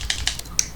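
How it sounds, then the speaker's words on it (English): Soft keyboard tapping as a cat character hacks a computer keyboard at a desk in the video game Schrodinger's Cat Burglar, three or four quick, light clicks spaced apart with no voices. "make it so that the cat could like stand next to a desk and hack keyboard like you see here"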